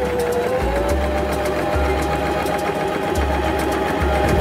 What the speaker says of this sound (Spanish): bajamos el prensatelas y realizaremos una costura para luego fruncirla